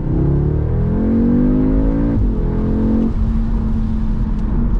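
A 2021 Audi S3 engine, with enhanced sound piped into the cabin, revs up smoothly with a rising tone, briefly drops as it shifts, then settles into a steady hum; loud and close.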